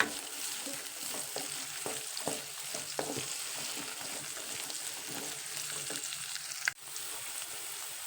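Chopped capsicum and a few beans fry in a pan with a continuous crackling sizzle, punctuated by several soft scraping stirs and one sharp clack near the end.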